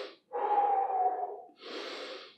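Someone breathes while holding an arm stretch during an upper-body workout: a long, slow airy exhale near the mic, followed by another softer breath after a short pause.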